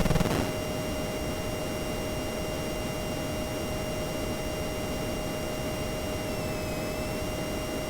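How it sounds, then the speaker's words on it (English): Steady, unbroken hiss of a plane engine's white noise in the Top Gun video game, with a faint thud at the start and high whining tones above, constant and loud throughout without any speech. "You missed the white noise of the plane engine."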